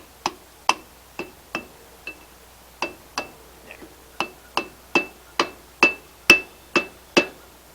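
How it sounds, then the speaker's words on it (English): A rubber hammer strikes electric trailer brake parts on a lowboy trailer: about eighteen sharp, separate knocks at an uneven but steady pace, close and clear against a quiet background. "rubber hammer."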